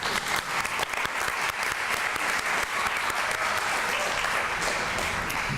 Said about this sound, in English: how about a round of applause for Kanu?